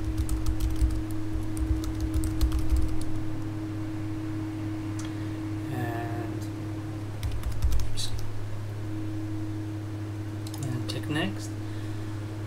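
Faint keystrokes tap out a password on a computer keyboard during a Windows 7 installation on a Mac, a few sparse clicks spaced over a steady electrical hum, with someone talking quietly partway through.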